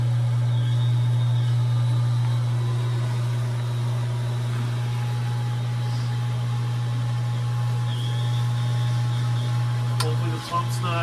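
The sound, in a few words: water pressure pump running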